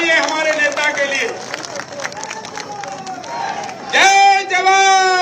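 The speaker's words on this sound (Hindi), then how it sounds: "दोनों हाथ उठाकर ताली बजाइए हमारे नेता के लिए।" Crowd at a large farmers' rally in Bhopal, Madhya Pradesh, clapping and cheering for the chief minister, a dense continuous roar of applause and voices with a loud burst near the end, under amplified speech.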